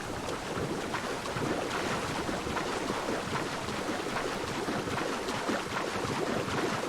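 Swimming in the sea in Assassin's Creed IV: Black Flag: a steady broadband wash of ocean water and wind, with sloshing surf and no clear strokes standing out, continuous and fairly loud throughout, with no talk.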